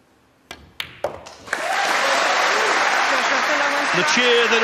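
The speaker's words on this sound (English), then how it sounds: "The cheer that always accompanies Joshua Fulda winning a rack here in Fulda." A crowd at a pool tournament semi-final, the 2023 European Open Pool Championship, bursts into loud sustained cheering and applause after a player wins a rack, following a few sharp knocks and claps, continuing steadily to the end.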